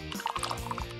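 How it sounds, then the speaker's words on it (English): Colored craft liquid is stirred and sloshed in a container, giving a brief run of light, wet trickling and pouring sounds up close. "Stir the colored liquid."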